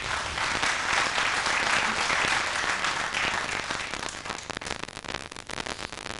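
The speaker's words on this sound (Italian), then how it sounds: "Nonostante gli applausi del pubblico" An audience applauds at a five-pin billiards match, a dense, steady wash of clapping that carries on throughout and thins slightly toward the end.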